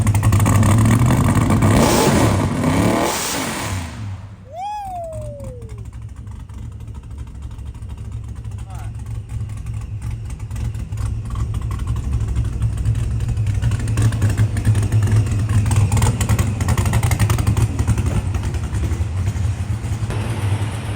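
Race car engine with a sticking trans brake, loud and close: a rising rev, a sharp cutout with a sweeping whine, then a steady, throaty idle that lopes and slowly builds.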